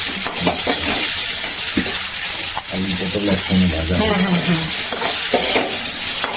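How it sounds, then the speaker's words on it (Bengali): Boiled potatoes with salt and turmeric frying in a pan, giving a soft sizzle and occasional stirring clinks beneath a person talking throughout. "আলুগুলোকে সিদ্ধ করে নিয়েছি সিদ্ধ করে নিয়েছি লবণ আর হলুদ একটু ভেজে নেব"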